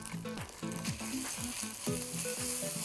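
Ginger and garlic fry and spatter in a pan for butter chicken, a steady sizzling crackle with occasional stirring, under low background music.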